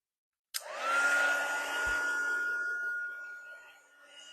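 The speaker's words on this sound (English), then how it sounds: "I'm going to use the heat tool one more time." A craft heat tool switches on abruptly and blows a steady, close whooshing whir while melting gold embossing powder on a stamped card, holding constant for several seconds before easing slightly.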